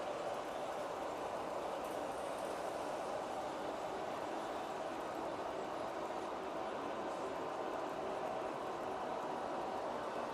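A model train runs steadily along its track in a continuous, faint rumbling roar with no breaks, and no voices are heard.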